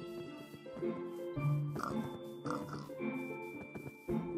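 Pigs oinking in a video game: several short, nasal grunts scattered at irregular intervals over a steady tonal background, fairly close and clear, with no talking.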